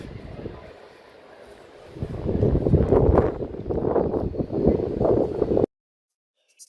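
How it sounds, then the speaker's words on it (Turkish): Gusty wind buffeting a microphone, a low rumbling roar that swells and pulses for several seconds before cutting off abruptly. "Rüzgarlı bir hava var. Rüzgar sesi gelebilir."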